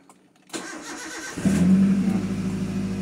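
A 2005 Toyota Avanza G car engine fitted with Sparko plugs starts up and then revs, rising into a loud, steady mid-pitched roar that carries on to the end, close to the microphone.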